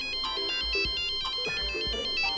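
A mobile phone ringtone plays a bright repeating electronic melody, loud and close, with no talk over it, as a wife's call comes in during a tense scene in an old haveli.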